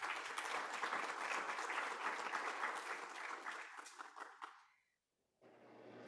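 An audience applauds to welcome speakers at the closing ceremony of a Latin American policy forum, steady dense clapping that fades out and stops before room sound returns.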